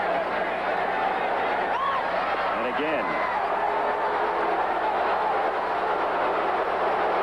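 A baseball stadium crowd at an NLCS game reacts with a sustained murmuring roar, a few whistles and calls poking through, while a voice speaks briefly.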